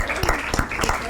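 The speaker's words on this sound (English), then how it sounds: "I just want to give them another round of applause" A short burst of applause from an audience at a teen summit, several sharp claps over a crowd wash, brief and fairly loud.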